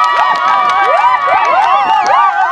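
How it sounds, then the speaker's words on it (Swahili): A crowd at a local political campaign rally cheers loudly and continuously, with shrill whoops and whistle-like cries rising and falling over the roar. "Ipigieni makofi mengi sana."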